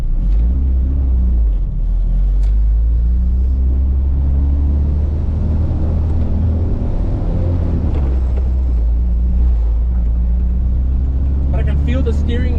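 Turbocharged Honda CRX with all-wheel drive and H2B swap cruising at night, a low steady engine rumble and road drone heard from inside the cabin, continuous and fairly loud with no talk.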